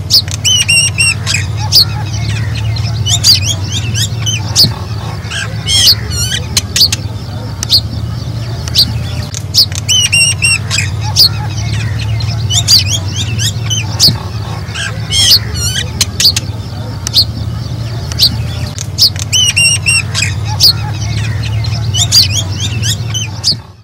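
Myna birds give repeated sharp squawks, chirps and whistles in bursts that recur at regular intervals over a steady low background hum, loud and close.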